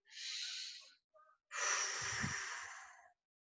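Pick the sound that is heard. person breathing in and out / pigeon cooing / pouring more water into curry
person breathing in and out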